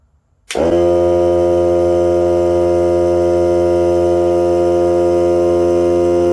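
A Hart cordless air compressor kicks on abruptly after a brief near-silence, then runs with a loud, steady, close-up motor drone and hum that holds without a break.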